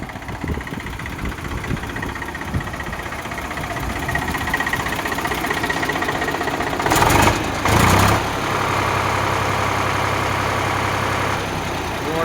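An Eicher 485 tractor with a 45 HP engine idles nearby in a steady knocking diesel chug, broken by two short louder bursts of revving before settling back to an even drone.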